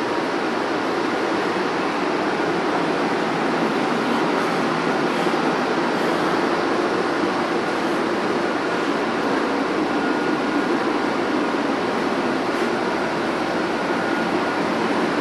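Steady broadband rumble and hiss inside a running CPTM Series 2500 commuter train in São Paulo, with continuous rail and ventilation noise and no talking.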